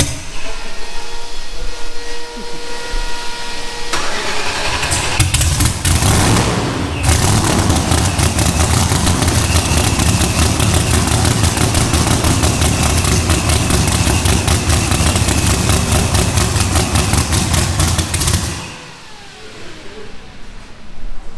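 A race car engine revving throaty and loud, a roaring sustained drone that starts, builds sharply, holds at high revs for about ten seconds with crackling texture, then cuts off.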